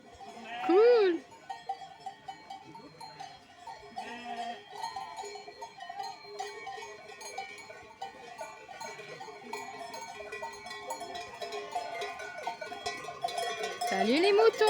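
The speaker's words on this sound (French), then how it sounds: "Salut les moutons." Sheep bleat loudly near the start and again at the end, over a steady jangle of cowbells, with people talking quietly throughout.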